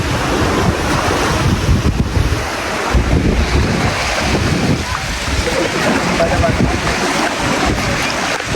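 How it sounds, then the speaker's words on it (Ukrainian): Sea waves rushing onto a shallow beach, a continuous loud surf wash mixed with strong wind buffeting the microphone, while a person talks over it. "Море чудове, класне, е, волни, а повітря, а морське."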